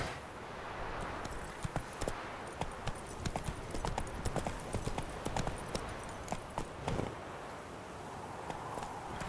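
Roach the horse from The Witcher 3 clip-clops along at a steady walking pace, a dense run of sharp hoof strikes over a continuous outdoor background, fairly close and even in loudness throughout.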